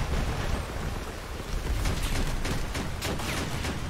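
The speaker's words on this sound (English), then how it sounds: "Oh, I think I hear gunfire." Gunfire in the Crossout vehicle combat game, a noisy, rumbling barrage of rapid shots and blasts mixed into dense battle noise, moderately loud and continuous throughout.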